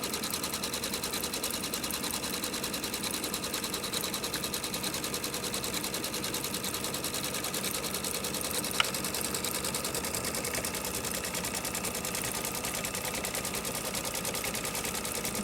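Embroidery sewing machine stitching the outline of a mug rug, a steady fast mechanical whir and needle patter running evenly and unbroken throughout, close and alone with no talking.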